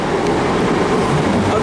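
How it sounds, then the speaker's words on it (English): A double-set Class 158 diesel train rumbles steadily at a station, heard as a continuous close mechanical drone with a low-end throb and no clear speech. "There's my train to Weston-Super-Mare, the 11:55, and it's a double set Class 158."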